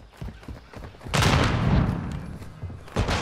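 Airstrike explosions in Call of Duty: Modern Warfare: a heavy, sustained rumbling blast swells after a second of scattered gunfire and lingers, with further sharp gunshots cracking near the end.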